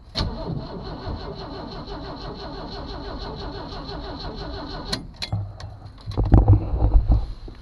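A Jeep Cherokee engine that has sat unused for years cranks over on its first start attempt, a steady rhythmic churning for about five seconds, then clunks and rumbles as it stops and stirs again.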